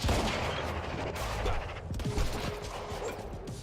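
Rapid bursts of gunfire in the video game Quantum Break, loud and dense with overlapping shots and booms, stretching through a continuous firefight.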